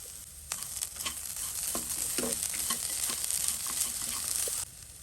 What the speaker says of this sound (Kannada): ಫ್ಲೇಮನ್ನು ಲೋ ಮಾಡಿ ಇದನ್ನು ಸ್ವಲ್ಪ ಹೊತ್ತು ರೋಸ್ಟ್ ಮಾಡ್ಕೊಳ್ಳಿ.